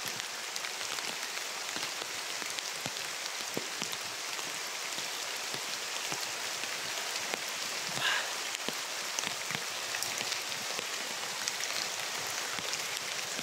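Steady rain falling and pattering on a surface, a dense continuous wash of drops with occasional louder splats, no voices.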